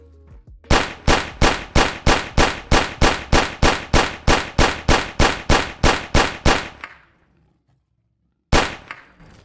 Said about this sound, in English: let's see how this thing performs shooting at the deathclaw in its weak spot